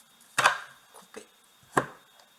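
A tarot deck being cut on a surface, three sharp card slaps with softer shuffling between, close and quiet.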